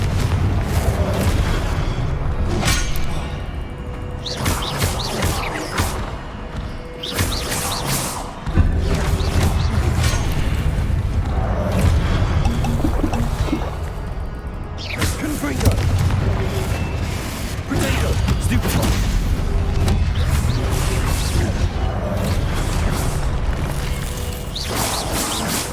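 Repeated Confringo blasting-spell explosions in the Hogwarts Legacy game, a dense run of booming blasts and crashes throughout, with a voice calling out between them.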